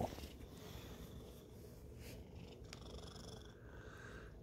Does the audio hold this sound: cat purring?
yes